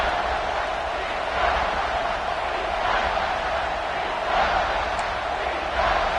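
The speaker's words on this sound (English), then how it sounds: "with this place rocking, the crowd forces a false start" Stadium crowd roar in a football video game, a steady loud wash of massed voices with slight swells, continuous throughout with no clear speech over it.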